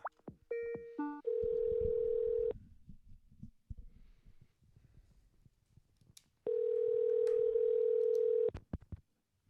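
An outgoing phone call rings back through the handset: a few short dialing tones, then two long steady ring tones separated by a quiet gap filled with faint handling noise.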